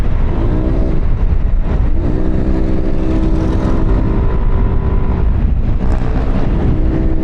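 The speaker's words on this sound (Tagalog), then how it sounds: "Ganyan yung gusto kong tunog ng tambucho mga broki." A Yamaha Aerox 155 V3 motor scooter's exhaust drones steadily and fairly loud, with the engine note rising and falling a few times, mixed with wind rush.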